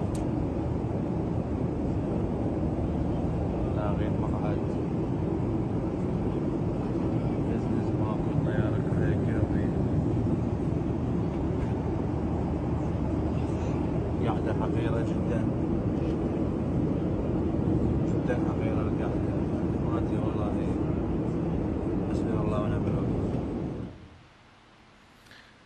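Cabin noise on a Fly Baghdad airliner in flight: a dense, steady roaring drone that holds for over twenty seconds before cutting off abruptly near the end.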